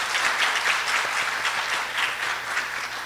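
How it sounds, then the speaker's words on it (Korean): An audience at an East Asian forum on sustainable gastronomy applauds to welcome a guest, sustained close, dense clapping from many hands filling the hall throughout. "박수 부탁드립니다."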